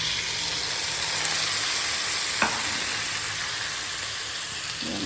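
Prawns frying with browned onions in a hot pan, a steady close sizzle with a soft clunk partway through and no talking.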